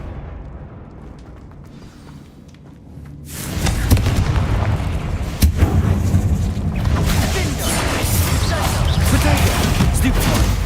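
A Confringo blasting spell in a wizarding video game erupts into a loud, sustained rumbling explosion after a quieter lead-in, with a voice talking underneath.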